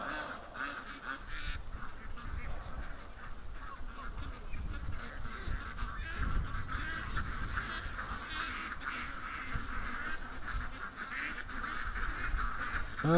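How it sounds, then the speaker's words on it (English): Geese honk and hiss steadily alongside ducks outdoors, probably on a windy day, with busy overlapping calls sitting over low rumbling background noise the whole time. "The hissing goose."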